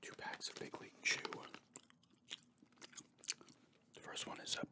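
Big League Chew bubble gum chewed close to the microphone, giving quiet wet smacks and crunchy bites in irregular bursts, with soft whispering in places.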